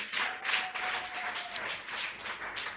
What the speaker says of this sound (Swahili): Tunaweza kumpa Yesu makofi.